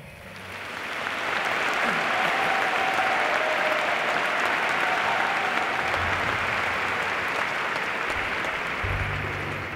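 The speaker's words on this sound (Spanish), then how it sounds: "Un fuerte aplauso, por favor." Applause from an audience at a military concert band performance swells up within the first two seconds, then holds as a broad, steady wash of clapping, a faint voice briefly audible beneath it.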